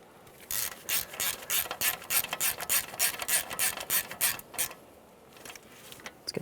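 A hand ratchet snugs a 10mm bolt on a 2012-2015 Honda Civic front wheel bearing, making a close run of rapid, rhythmic clicking strokes that fades into a few final clicks, with no speech.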